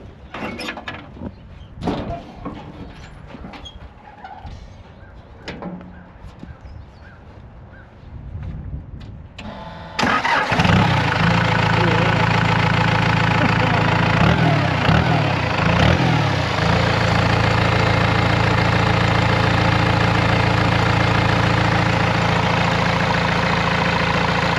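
A Dentside Ford truck engine cranks and catches, then settles into a loud, steady idle up close; soft clicks and shuffling precede the start, with no talk over the running engine.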